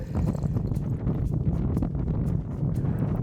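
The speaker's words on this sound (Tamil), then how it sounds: "செம்ம காத்தடிக்குதுங்க" Strong wind buffets the microphone on a 3,500-foot mountain summit, a loud continuous roar with gusty rumbling throughout and no talk.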